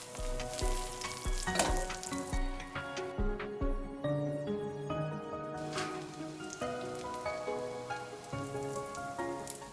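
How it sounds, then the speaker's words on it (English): Steady, loud sizzling and crackling of a chicken pizza base frying in hot oil in a large pan, with occasional clinks of a utensil against the pan. "Add frying oil in the large pan and fry the pizza base."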